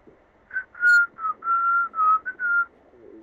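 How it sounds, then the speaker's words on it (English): A person whistles a short tune of about eight clear, clean notes in a quick uneven rhythm, close and alone against quiet background. "That's me whistling."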